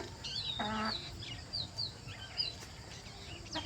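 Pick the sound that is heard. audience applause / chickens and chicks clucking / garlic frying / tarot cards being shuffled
chickens and chicks clucking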